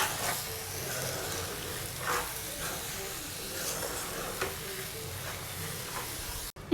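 Eggs frying with chopped spring onions in a pan, a steady close sizzle with stirring scrapes throughout, fairly even in level.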